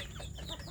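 Young kampung chicks and hens cluck and peep softly around a rural village coop, a brief burst of overlapping chirpy calls heard at a moderate distance.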